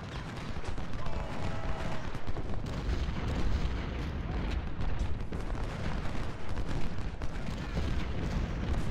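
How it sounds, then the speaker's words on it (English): Musket volleys and battlefield gunfire from the Civil War strategy game Ultimate General: Civil War, a dense continuous roar of overlapping shots and rumble filling the whole stretch, with faint game voices beneath. "Fire your volley."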